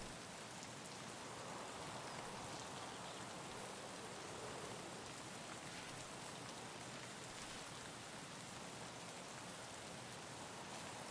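Steady rain hisses continuously in the video game Escape from Tarkov, an even, dense wash of falling drops with no pauses and no voices.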